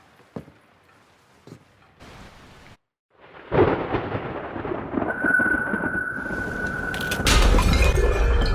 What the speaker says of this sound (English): Has the rain stopped?